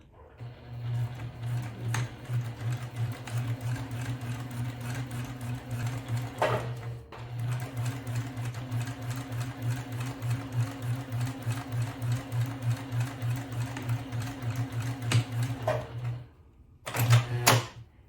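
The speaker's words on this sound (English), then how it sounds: "now we're here at the sewing machine, and I'm going to start to sew." A sewing machine stitches across fabric for a small zippered purse in long steady bursts, a fast mechanical whirring hum with brief pauses between runs, close up.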